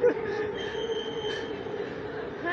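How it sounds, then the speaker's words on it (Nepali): A metro train pulls through a station in Malaysia, giving a steady rumble with a high, sustained wheel squeal that runs throughout at moderate distance and with no talking. "हामी चाहिँ मेट्रो स्टेसनमा यस्तो जाँदैछौँ मेट्रो गयो"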